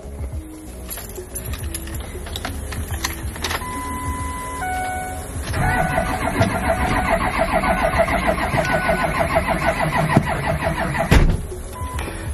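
A car engine cranks repeatedly on a jump start, a steady whirring starter drone with clicks and mechanical rattles up close, no voices.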